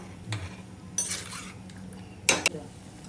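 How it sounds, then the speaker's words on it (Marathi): Dry fruits are roasted in a pan, with a quiet background sizzle broken by a few sharp spatula scrapes and metallic clinks against the pan. "आपल्या ड्रायफ्रूट असे भाजून घ्यायच्यात म्हणजे रोस्ट करून घ्यायचे."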